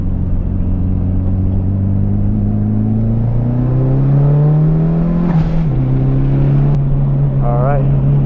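A Mitsubishi Evo 5 race car being driven hard on a racetrack: loud, close engine note climbing steadily under acceleration, a quick drop at a gear change, then pulling on again with a steady roar.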